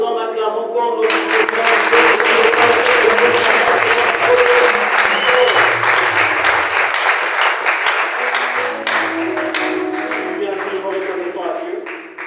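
A church congregation at a Sunday service bursts into loud, sustained applause and cheering, dense clapping that fills the space for several seconds before slowly thinning, with voices and tones mixed underneath.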